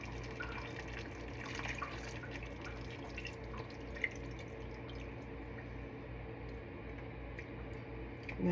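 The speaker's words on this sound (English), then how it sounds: "There's still some more dripping," Water drips in a home kitchen where lamb chops with rosemary are being cooked, a few faint, sparse ticks over a steady low background hum, heard alone without talk.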